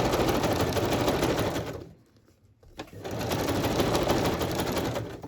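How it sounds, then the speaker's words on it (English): A sewing machine stitching a boho journal cover runs in a fast, steady mechanical whir, stops for about a second as the work is turned, then resumes stitching at the same close, even pace. "And then stitch this one down."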